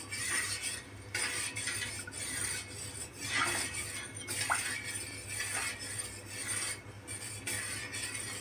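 A spoon scrapes and rasps against a cooking pot while a mango ice cream mixture is stirred continuously over a gas flame, giving soft repeated rubbing strokes with occasional faint clinks, close by and fairly quiet.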